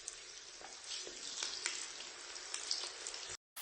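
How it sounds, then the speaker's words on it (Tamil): Curry leaves sizzle and crackle in hot oil over a medium-high flame for pakoda, a steady close frying hiss with small pops, ending in a brief sudden silence. "முதல்ல நம்ம கருவேப்பிலை சேர்த்து பொரிச்சுக்கலாம்."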